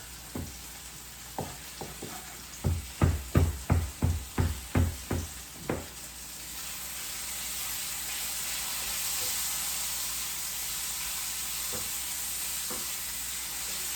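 Onions in a pan with a run of hard knocks from stirring, followed by a steady loud hiss and sizzle of frying, close by and without speech.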